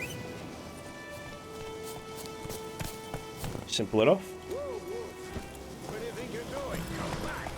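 Hooves of a horse clip-clopping in The Witcher 3 Wild Hunt, loudest for a moment near the middle over steady game ambience, with someone talking over it.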